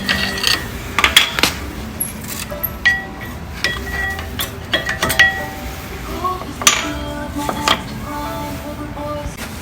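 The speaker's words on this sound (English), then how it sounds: "Let's go ahead and remove the brake pads." Brake pads come off the front brakes of a Ford Explorer with clinks and metallic knocks and rattles, irregular and close, scattered across the whole stretch.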